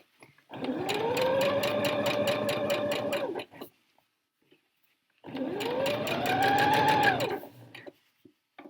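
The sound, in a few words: sewing machine stitching a jacket seam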